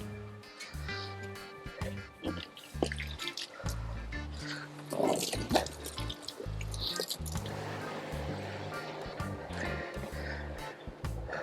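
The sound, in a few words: filling a yacht's fresh water tank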